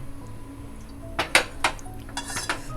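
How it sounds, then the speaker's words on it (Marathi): A metal cooking pot is set down on a gas stove burner to heat for oil tempering, giving a few sharp clanks and clinks of metal near 1.3 to 2.5 seconds over a low kitchen hum, with no talking. "मी ते गॅसवरती टोप तापत ठेवलं आहे"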